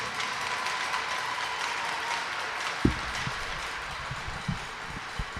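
A crowd at a U15 AAA female hockey bronze medal game applauds both teams on the ice, a distant, steady rumble of clapping in a rink with a few louder thumps near the end.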